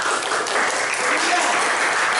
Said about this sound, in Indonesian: kita berikan tepuk tangan buat Aprilia